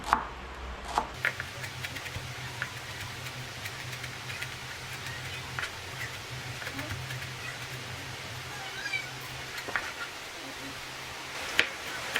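A knife mincing ginger on a cutting board gives soft, irregular chopping taps at close range, with a faint background hiss throughout.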